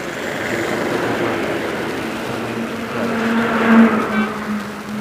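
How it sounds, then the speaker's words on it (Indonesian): A Fajar Wisata tourist bus from Dumai rolls past on the road, its engine making a steady, loud drone that swells as it goes by. "Ini bus Fajar Wisata ini dari Dumai."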